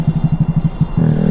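Honda Grom motorcycle fitted with an M4 exhaust, a quick run of evenly spaced low thumping pulses from the engine that give way to a steadier, louder droning note at the end.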